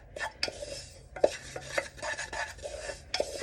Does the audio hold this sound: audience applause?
no